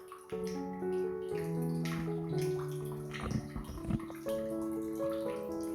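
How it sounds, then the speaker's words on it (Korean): Water runs from a tank-fed tap with weak pressure, a close, steady splashing flow with a ringing, pitched resonance and occasional gurgles. "물탱크에서 내려오는 물을 열었는데 오히려 수압이 더 약해졌다는 느낌이 드네"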